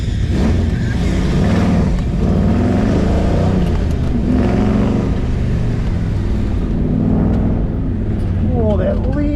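A Monte Carlo project car on the Hot Rod Power Tour launches on an autocross run, its engine roaring loud and close as it climbs through the revs, with voices talking over the noise.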